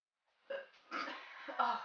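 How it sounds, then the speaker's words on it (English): A single person burps during a jelly bean taste challenge, a short throaty belch in two or three close bursts, heard near and alone. "I'm probably burping up bad smells"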